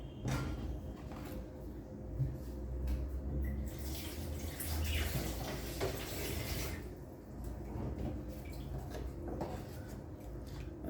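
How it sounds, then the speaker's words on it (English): Water runs steadily from a tap into a cooking pot while Jamaican plantain porridge is being made, a continuous soft splashing flow with a few faint clunks of kitchen handling. "Add in a little more water."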